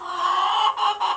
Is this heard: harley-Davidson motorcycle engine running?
no